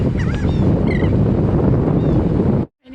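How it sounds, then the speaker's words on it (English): Laughing gulls call on a beach at Padre Island National Seashore, giving a few faint, brief cries at a distance beneath strong, steady wind and surf noise that ends in a sudden cutoff. "These are laughing gulls."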